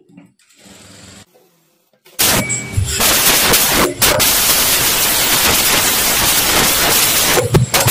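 A sewing machine stitching a work blouse, running in a loud, dense, continuous whir after a quiet start with brief faint sounds and a pause, close and steady to the end with a short dip midway.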